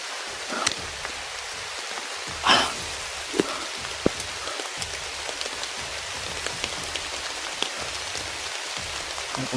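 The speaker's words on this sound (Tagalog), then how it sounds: "malakas na talaga yung ulan" Heavy rain in a video game falls as a constant dense patter with scattered sharper drops and small splashes, steady and close, with no talk over it.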